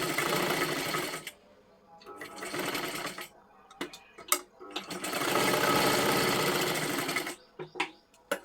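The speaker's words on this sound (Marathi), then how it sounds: "याच्यावरती पण डबल शिलाई देऊन घ्यायची आहे" A sewing machine runs a double line of stitching on a blouse in close, steady bursts, two long runs separated by brief pauses and short stops and starts.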